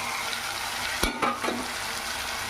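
Boiled potatoes tipped into hot oil with tomato in a pan, giving a steady sizzle and frying hiss punctuated by a couple of sharp clatters as they drop in and are stirred.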